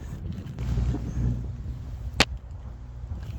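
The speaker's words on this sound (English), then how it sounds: "You can hear the wind in the background." Steady low wind rumble buffeting outdoors on an open golf hole, with a single sharp click cutting through partway.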